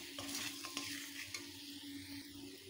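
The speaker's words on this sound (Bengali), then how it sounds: "কচুটাকে ভালোভাবে কষে নেব। কষে নেওয়া হয়ে গেছে, কচু থেকে তেল ছেড়ে দিয়েছে দেখুন।" Taro pieces being sautéed in oil for a fish roe curry, a quiet, continuous crackling sizzle with intermittent stirring scrapes and clicks of a spatula against the pan, close up.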